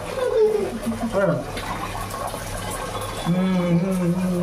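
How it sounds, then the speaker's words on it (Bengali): Hot water runs steadily from a tap to fill a bath, a continuous close rushing flow heard under people talking. "জল ছাড়া হয়েছে, গরম জল বেরোচ্ছে দেখ"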